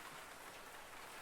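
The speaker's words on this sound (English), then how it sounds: "Soon torrents of water are pelting the ground." Steady, dense rain pours down in the video game Butterfly Soup 2, a constant even hiss of heavy drops pelting the ground, quiet and uninterrupted, with no voices.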